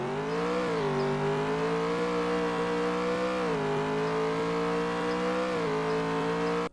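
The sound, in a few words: car engine revving in Roblox driving video game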